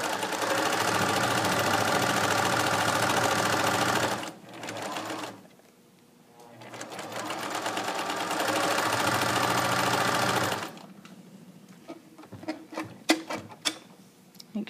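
A sewing machine stitches a waistband casing on a garment over the machine arm, running in a steady loud whir, pausing briefly, then continuing before stopping, followed by faint handling clicks.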